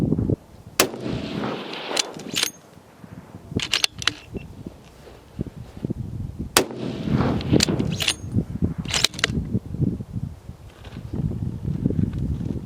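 Sharp, loud rifle reports from a Howa HS Precision 1500 chambered in 300 Win Mag, two separate shots a few seconds apart, each with a brief echo, amid outdoor wind and light handling noise.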